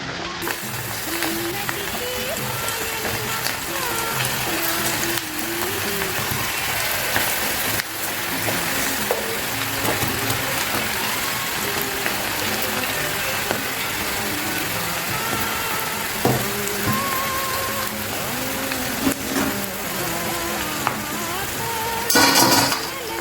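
Batter-coated cabbage pakodi frying in hot oil, a steady dense crackling sizzle that fills the whole stretch at an even level, with a few faint clinks near the end.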